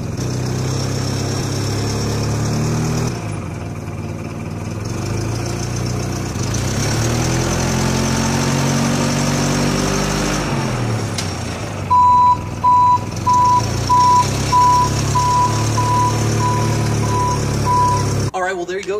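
A standard forklift idles and then drives, its engine a steady mid-pitched rumble throughout, with regular electronic reversing beeps sounding near the end.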